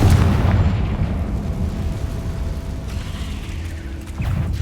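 Spell explosions in Hogwarts Legacy, a heavy booming blast at the start followed by a sustained rumbling roar with deep low-end, a second burst building near the end.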